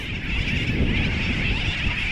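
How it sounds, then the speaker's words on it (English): Seabirds crowd together in a dense colony on East Diamond Islet, a tiny island far out in the ocean, honking and calling continuously at close range over steady wind noise. "We have all species of birds living amongst each other."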